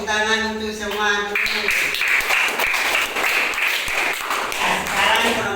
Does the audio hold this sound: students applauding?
yes